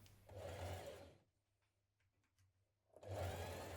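A sewing machine runs top stitching on dungarees in two steady motor bursts, close and clear, separated by a quiet pause with faint handling noises.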